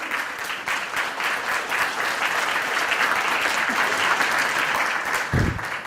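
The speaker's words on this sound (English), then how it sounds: "Can we give them a round of applause?" An audience applauds current and past chamber board members at a village state-of-the-village event, a dense, steady clapping that stays even for several seconds, loud and close.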